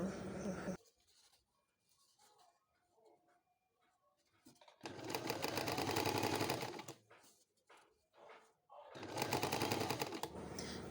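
Sewing machine stitching fabric for a headband, running in two steady close bursts of about two seconds each, separated by quieter handling noises and brief clicks.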